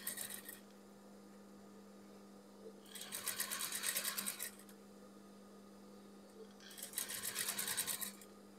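Sewing machine stitching a shirt collar, running in two distinct bursts of steady mechanical whirring separated by quiet pauses, with a constant low mains hum underneath throughout.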